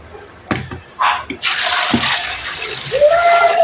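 A few knocks and clinks, then a steady rush of water pouring into a cooking pot of chicken feet with bay leaves, whole peppercorns and salt, the pitch rising slightly as it fills.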